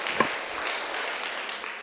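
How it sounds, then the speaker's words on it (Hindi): An audience at a Buddhist vihara event in Shravasti Vihar, Nagpur, breaks into a short burst of dense applause that holds steady and then cuts off abruptly. "आप मेरे लिए फिर से तालियां बजा"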